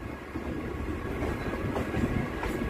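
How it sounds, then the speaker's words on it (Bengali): A local passenger train on the Ranaghat–Krishnanagar line via Shantipur pulls out of Kalinarayanpur Junction, giving a steady, fairly loud rumble of rolling carriages with faint clatter throughout and no voices. "মিনিট খানেক দাঁড়িয়ে ট্রেন ছাড়ল কালীনারায়ণপুর জংশন থেকে।"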